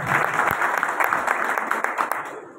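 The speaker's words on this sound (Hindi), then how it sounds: "आदरणीय श्री सुनेरिया साहब जी के लिए एक बार जोरदार तालियां बजाएं" An audience at a Vishwakarma Gujarati Suthar community election gathering in Ujjain breaks into steady, enthusiastic applause, a dense wash of clapping that carries on throughout.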